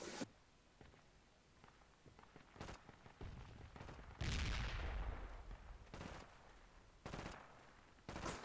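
Gunfire including a BAR automatic rifle in Project Reality on the Brecourt Assault map, sharp shots and short bursts spaced irregularly, with one louder, heavier blast in the middle, fairly faint overall.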